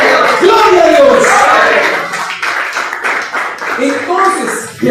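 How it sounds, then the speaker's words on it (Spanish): A church congregation claps hands together, a dense, continuous patter of many palms under loud shouting and a preacher's voice, with the crowd noise rising and falling. "Entonces dale palmas al Señor, hermano."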